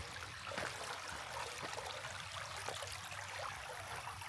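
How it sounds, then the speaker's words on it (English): A small creek on the Rock Island rail-trail flows steadily with a soft, faint, continuous trickle and babble heard on its own. "right now it's just a nice little creek"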